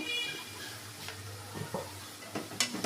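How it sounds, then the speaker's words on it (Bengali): Soft sizzling of onions in a pan with a few scraping stirs and light utensil clicks, close and fairly quiet, no speech. "এবার আরও একটু পেঁয়াজের সাথে নেড়ে চেড়ে দেব"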